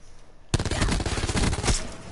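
Burst of rapid video game gunfire, loud and close, in a dense rattling volley like a machine gun that starts abruptly and keeps going without pause.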